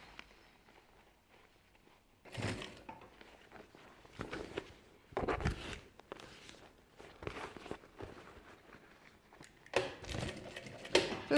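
A sewing machine stitches a backpack in short, separate bursts with quiet pauses between them, each run of stitching fairly close and moderately loud.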